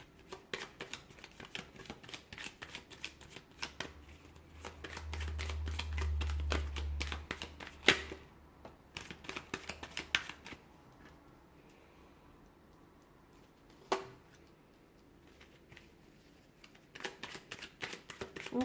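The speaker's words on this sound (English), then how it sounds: "I'm going to give the cards a shuffle" Tarot cards shuffled by hand in a quiet room, a run of soft riffling and a burst of denser card flutter, with scattered sharp ticks and taps, close and fairly faint, no voices.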